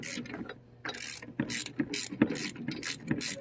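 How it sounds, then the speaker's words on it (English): A ratchet with an 18mm socket tightens a bolt on a storage box bracket for a 2009-2014 Ford F150, giving quiet, close, evenly spaced clicking strokes, about a dozen in quick rhythm. "And get your 18mm socket."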